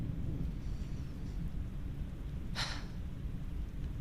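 A thunderstorm with rain gives a constant low rumble and rain hiss, with one brief brighter crackle of thunder or a gust near the end, no one speaking.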